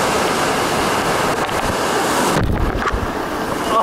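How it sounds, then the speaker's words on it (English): A water park wave machine shoots a strong, steady rush of water for bodyboarding, loud and close, with a brief splashing surge near the end. "Has this sweet little bodyboarding thing. It just shoots out water at you."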